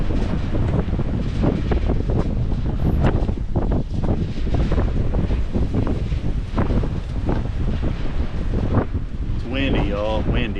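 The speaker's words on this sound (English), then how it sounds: "It's windy, y'all, windy." Strong wind roars steadily across an outdoor microphone near a broken windmill in Oklahoma City, a loud, unbroken gusty rumble with buffeting, and a brief voice emerges faintly near the end.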